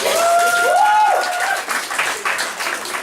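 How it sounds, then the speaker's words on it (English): Audience applause at a comedy club as two performers are called to the stage, a dense wash of clapping filling the clip, loudest at first and then easing off slightly with some voices mixed in. "Round of applause for them."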